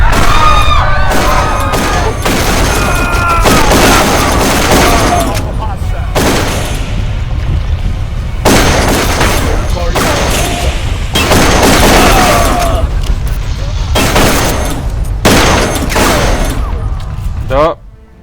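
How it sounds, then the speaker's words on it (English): Automated turret firing in a video game, loud repeated bursts of gunfire and booming impacts across the whole stretch, with short gaps between volleys and a voice speaking underneath. "Careful, Norris! That's an automated turret"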